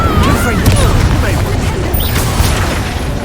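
Incendio, a fire spell in the game Hogwarts Legacy, cast in a loud burst of crackling, whooshing flame and impact noise over a heavy low rumble, with magical swishes overhead.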